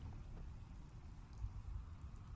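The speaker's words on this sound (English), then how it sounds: "Just thinking how wonderful it'd be to get out of this infernal rain." Rain falling in the video game Fallout 4, a faint low continuous patter with soft rumbling underneath, quiet and steady without speech.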